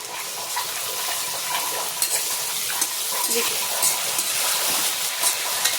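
Fish, apparently hilsa, frying in a pan in a home kitchen: a steady, dense hiss and sizzle of oil with occasional stirring scrapes and clinks, close and continuous, with no voices.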